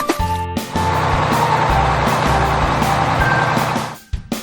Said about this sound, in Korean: dump truck, 덤프트럭